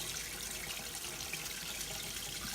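Water runs steadily from a tap during a plumbing test, a constant close hiss of flowing water with no pauses or voices.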